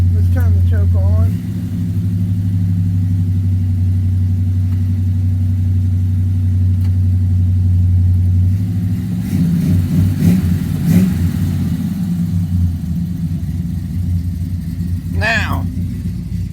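A Chevy pickup engine runs on a cold start with the choke on, a loud steady rumble that rises into revving and clatter midway, with someone speaking over it at points.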